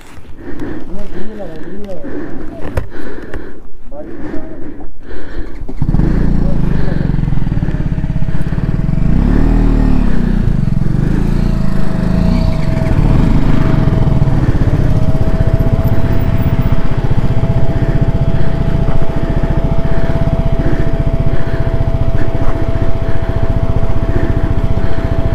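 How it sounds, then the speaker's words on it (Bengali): A motorcycle engine runs steadily at idle after a brief rumbling start, loud and close, while people talk nearby on a mountain road trip from Kargil toward Hunderman. "এ দাঁড়াচ্ছে না তো বাইক"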